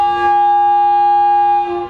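Dehradun Shatabdi train sounding a loud, steady whistle or siren before departure, a sustained tone held for the full couple of seconds and tapering slightly at the end.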